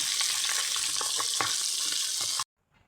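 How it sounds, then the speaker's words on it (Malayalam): Masala-coated chicken pieces dropped into hot coconut oil, a loud close sizzle with quick spattering crackles and pops that cuts off abruptly near the end. "എണ്ണ തിളച്ചതിന് ശേഷം മസാല പുരട്ടി വെച്ചേക്കുന്നത് ഇതിലേക്കൊന്ന് പറക്കിയിടാം"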